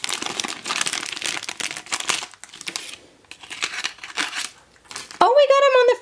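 Scissors cut through a corner of plastic packaging on a Harry Potter pocket pop key chain, making close crinkling, crunching snips over about five seconds before a voice begins talking.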